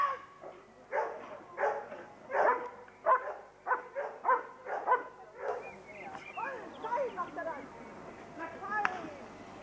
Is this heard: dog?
yes